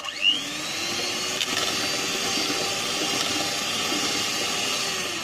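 A steady, close electric motor whir with a high whine runs without pause, an electric beater whipping cream for homemade vanilla ice cream.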